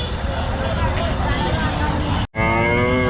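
Cattle low at a busy cow market with a long, loud moo close by. A second moo follows a brief break, over a background of crowd chatter and traffic.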